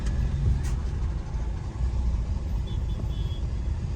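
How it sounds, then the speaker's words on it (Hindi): Delhi road traffic heard from inside a moving car at night, a steady low rumble of engine and tyres with passing vehicles and a faint horn, no one speaking. "दिल्ली का ट्रैफिक फेमस है अगर दिल्ली का सबसे ज़्यादा।"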